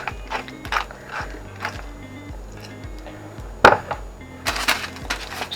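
A black pepper mill turns in short, repeated ratcheting grinds over a kitchen background while shakshuka is made, with a sharp clatter partway through.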